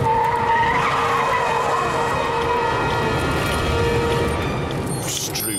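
Eight-ton Cadillac truck braking hard, its tires screeching in a long, loud skid that holds steady for several seconds.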